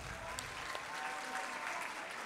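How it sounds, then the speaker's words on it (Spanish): An audience at a cultural social-organization event applauds with steady, fairly faint clapping heard from a distance, with a few voices mixed in. "un fuerte aplauso."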